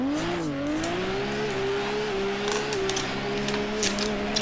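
Race car engine in the Assetto Corsa game on the Gunsai Touge mountain road, a steady sustained drone with slowly shifting pitch and a brief dip near the start, loud and continuous without speech.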